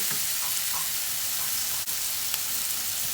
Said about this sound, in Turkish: Şöyle bir kere karıştırıyoruz.